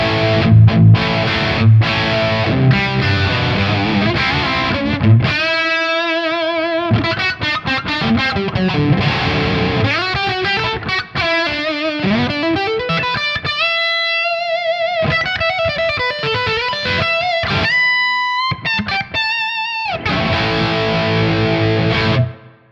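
Electric guitar played through the Tonex OD3 overdrive tone, a run of driven chords and single-note noodling with sustained distorted notes and brief pauses, loud and close, with no talk.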